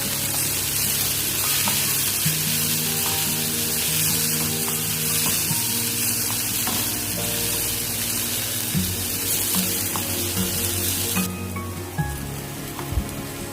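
Onions sizzle in a pan as turmeric and pepper powder are stirred in for a Malabar-style egg macaroni dish, with a steady frying hiss and occasional stirring clicks under background music.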